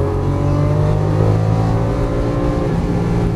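A Lamborghini Aventador LP700-4 is driven on a track, its engine holding a loud, steady, deep drone up close, with a slight rise in pitch as it pulls through the gear.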